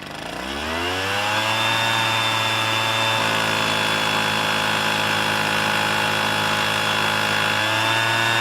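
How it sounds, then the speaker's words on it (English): Several leaf blowers run at once in a park, a loud, steady engine drone with shifting harmonic whine that rises and holds for the whole stretch, with no speech over it. "the leaf blowers started going off and there are a lot of them"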